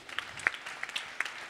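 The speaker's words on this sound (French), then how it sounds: "Donc on peut tous les applaudir." An audience at an evening of entrepreneurial pitches gives light, scattered applause, with a handful of separate sharp claps rather than a full ovation.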